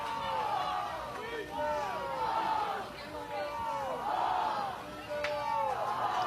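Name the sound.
softball crowd chanting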